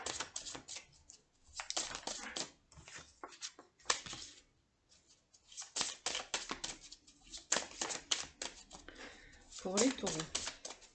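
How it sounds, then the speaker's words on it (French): Tarot cards are laid out on a table during a reading, with bursts of crisp card slaps and shuffling, stopping and starting over about eleven seconds alongside occasional speech. "Alors, je pose les cartes et je vais vous montrer."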